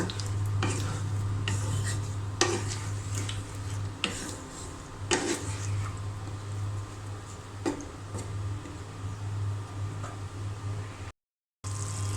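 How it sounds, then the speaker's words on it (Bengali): Potatoes being stir-fried with spice paste in a pan, with repeated scraping and clinking of a utensil against the pan over a steady low sizzle, continuous for about eleven seconds before a brief gap. "মশলার সঙ্গে ভালো করে আলু কষিয়ে নিব।"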